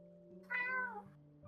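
A single cat meows once, close and fairly clear, a short rising-falling cry over a quiet background with a steady low hum.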